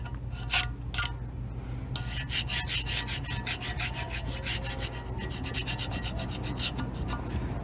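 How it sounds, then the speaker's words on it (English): Hand scraping across the gasket surface of a cast iron intake manifold from a 400 small block, a steady rasping rub with a few sharper strokes early on, close and continuous throughout with no voices. "I hope I'm not gouging the gasket surface."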